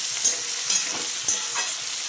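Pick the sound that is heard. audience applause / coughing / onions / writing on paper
onions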